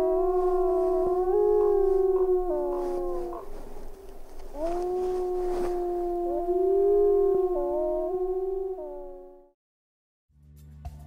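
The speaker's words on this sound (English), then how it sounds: "Wolves howl to gather the pack and to communicate with other wolf packs up to 10 miles away." A gray wolf howls several long, mournful, wavering calls with sliding pitch, fairly close and clear, ending in a short silence before a faint rumble.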